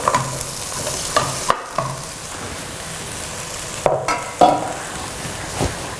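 Green beans stir-fried with onion, garlic and oil hiss and crackle steadily in a pan, broken by several close, loud scrapes and knocks of a spatula as the mixture is turned.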